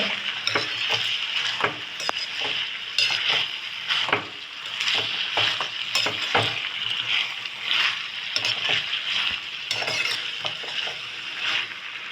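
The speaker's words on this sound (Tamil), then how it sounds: "இப்போ தக்காளி நல்லா வெந்துட்டுருக்கு இதோட உப்பு சேர்த்துக்கோங்க" Tomatoes cooking with salt in a pan for a village-style tomato mash, soft sizzling under repeated spoon scrapes and clinks against the pan, moderately close with no talk.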